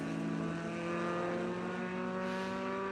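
Race car at the Watkins Glen seven-hour endurance race, its front end struggling: a steady, loud engine drone with strong harmonic tones held throughout, no talk.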